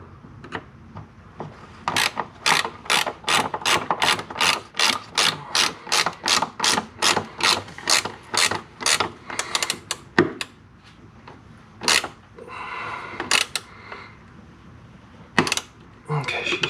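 A ratchet wrench clicks in a fast, steady run of strokes as bolts are tightened on the subframe of a Mazda RX-7 FC3S, then falls into slower, scattered clicks and short bursts near the end, close and clear.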